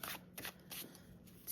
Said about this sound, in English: I would shuffle again